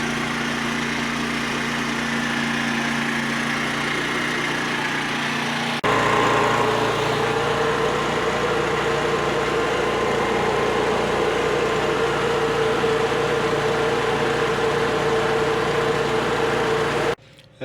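A HECHT IG 3601 inverter generator drones steadily at close range while powering household loads, its engine tone shifting to a higher, stronger hum partway through as the load changes, then cutting off abruptly at the end.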